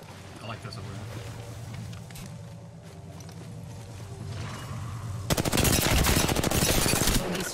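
Gunfire in the video game Apex Legends, first as scattered distant shots under game ambience and rhythmic footsteps. It then becomes a loud rapid burst of automatic fire in the last couple of seconds.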